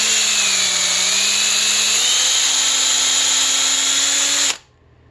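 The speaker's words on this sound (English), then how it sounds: "I just drill it out with the same drill" A drill runs steadily while enlarging the hole in a Mikuni carburetor fitting, a loud, close, continuous whine that rises slightly in pitch and then cuts off abruptly near the end.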